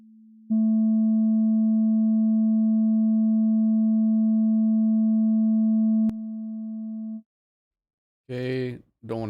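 An audio plugin's oscillator produces a steady, loud sustained tone that holds for several seconds, steps down in level, then cuts off, followed by brief speech.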